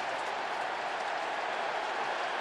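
Stadium crowd of New York Giants fans at an NFL game against the Eagles taunts an opposing player, a steady, dense roar of voices holding level throughout, fairly distant and with no clear talk on top.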